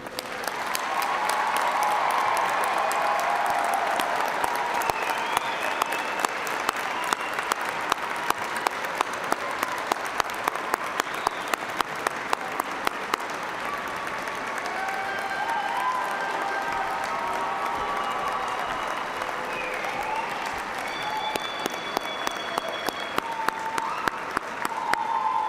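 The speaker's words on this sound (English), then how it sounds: "let's recognize with a hearty round of applause the newest graduating class of" A large audience at a university commencement applauds the graduating class, a dense, sustained roar of clapping with scattered cheers that holds steady throughout and includes a few distinct sharp claps near the front.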